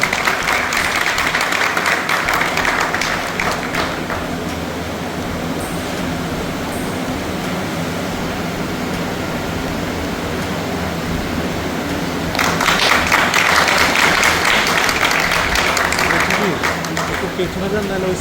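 Audience applause at a farewell and welcome ceremony for a railway divisional manager in Alipurduar, a crowd clapping steadily that swells louder near the end, mixed with background chatter.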